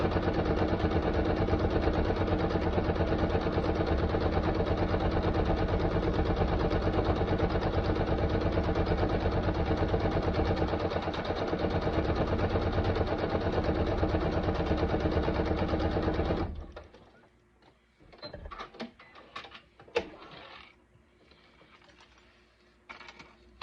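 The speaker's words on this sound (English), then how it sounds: "I forgot to increase my stitch for top stitching." A sewing machine top-stitches zipper panels on a backpack, running in a fast, continuous mechanical rattle for about sixteen seconds before stopping. A few quiet clicks and handling sounds follow.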